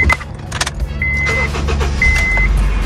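A used car being flipped for resale cranks and its engine catches, followed by a steady close idle with a faint electronic chime sounding twice from the dashboard.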